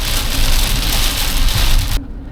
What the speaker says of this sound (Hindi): कितनी तेज़ बारिश है कि ठीक से सड़क भी नहीं दिखाई दे रही है